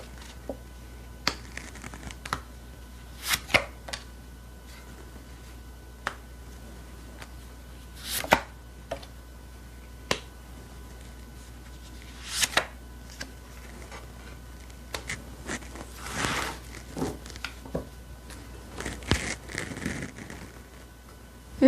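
Tarot cards are drawn and laid out on a table, giving soft scattered taps, slides and flicks at irregular intervals with quiet pauses between, close and fairly faint.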